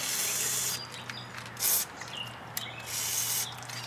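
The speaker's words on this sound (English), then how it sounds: "Spray some penetrating oil." Short bursts of penetrating oil spray hiss from an aerosol can onto a stuck inner tie rod end of a 1999 Pontiac Grand Prix, several quick sprays separated by brief pauses, close and fairly loud.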